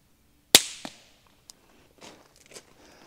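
A suppressed B&T VP9 pistol, the quiet veterinary model, fires once: a single sharp, close pop that fades quickly, followed by faint clicks and small mechanical rustles.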